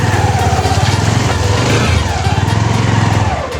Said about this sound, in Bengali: ও অলরেডি চাকা টেনে নিচ্ছে, চাকা স্লিপ করছে খুব।